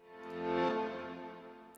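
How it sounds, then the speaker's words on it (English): Reversed piano chord drenched in heavy reverb for a progressive house track, swelling up gradually to a peak and then fading out, alone, about two seconds long. "a reversed piano"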